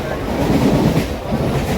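A crowded fast local commuter train rumbling along, a dense, steady roar of wheels and carriage noise filling the whole stretch.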